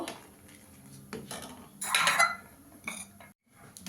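A spoon clinks against a pot while stirring milk with dissolved powdered milk for soaking chitoi pitha, giving a few close, scattered metallic taps and scrapes with one louder clatter in the middle.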